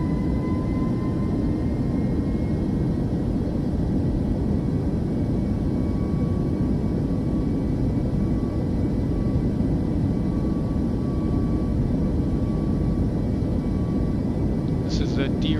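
A Boeing 737 in Microsoft Flight Simulator 2024 rolls for a derated takeoff, its jet engines a loud, steady broadband roar held constant throughout, with a faint high whine above it.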